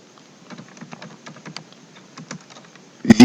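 Quick, uneven keystrokes clatter on a computer keyboard at close range while code is typed, ending in a louder knock.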